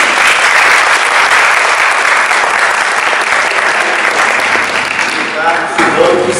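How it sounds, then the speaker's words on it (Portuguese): An audience at a company training event breaks into sustained applause, a dense, loud wash of clapping that holds steady for several seconds, with a few voices faintly mixed in beneath it. "Bom, palmas!"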